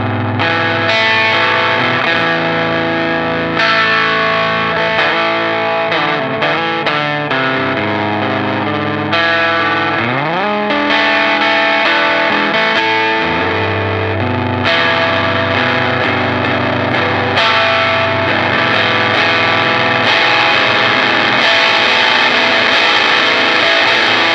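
Overdriven electric guitar through a distortion pedal set to its clipping mode at lower gain, playing steady chords and riffs with a compressed, saturated tone, loud and continuous with no voices.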